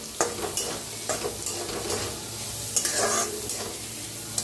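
Chopped onion sizzles in hot oil with cumin seeds while a spatula stirs and scrapes the pan in repeated strokes, loud and close, with no voices.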